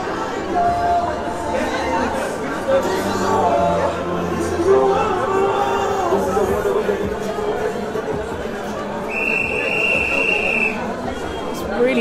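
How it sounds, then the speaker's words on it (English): A large crowd of protesters chatters and murmurs while a loud, sustained whistle cuts through near the end, with other whistles sounding faintly throughout. "Loud whistles going on."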